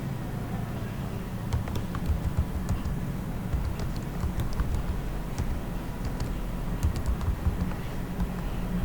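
Typing a supplier name into retail billing software on a computer keyboard gives a steady run of light, quick key taps over a low background hum, with no speech.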